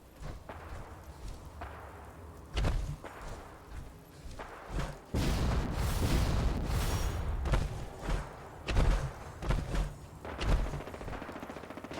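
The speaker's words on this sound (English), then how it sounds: "And explosions over there." Explosions and gunfire in the video game Fallout 4, booming blasts and bursts of firing arriving in clusters, with a long sustained barrage in the middle and more scattered hits afterward.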